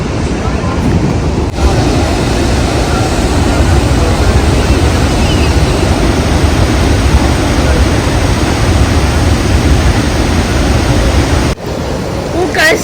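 Strong, steady roar of heavily flowing water at Athirapally waterfall in Kerala during rain, a dense continuous rush filling the whole clip with no pauses.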